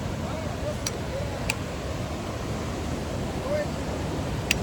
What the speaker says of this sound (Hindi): आप ये वाटर का जो फ्लो देख के समझ सकते हो क्यों रहता है इतना डिफ़िकल्ट